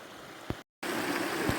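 Upper Crowden Little Brook flows along a flat section in the Peak District, a steady, close rushing hiss of moving water with a brief gap of silence partway through.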